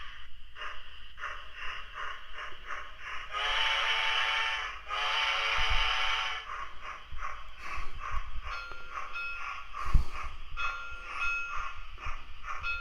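Battery-powered Bachmann 2-6-0 On30 radio-controlled model steam locomotive starting off, with two long whistle blasts near the middle over steady chuffing and rhythmic clicking, plus a sharp knock toward the end.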